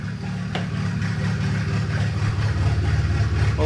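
A BMW 335i wagon project car idles just after its first engine start, a steady, throbbing low rumble that holds evenly throughout, close and without voices.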